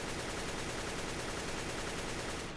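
A continuous AK rifle spray fired while crouching in the video game CS:GO, a rapid, steady stream of loud shots filling the whole stretch and cutting off at the end.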